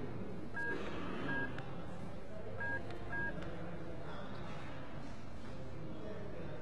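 A telephone being dialed, a run of short, evenly spaced keypad tones over a muffled room background with faint voices, the beeps clear but moderate in level.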